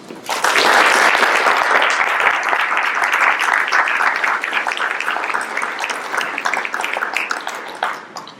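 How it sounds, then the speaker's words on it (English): Loud applause from a crowd at a Serra International Convention delegates meeting, many hands clapping densely for several seconds before gradually thinning and fading toward the end. "I take from this applause that there are no questions"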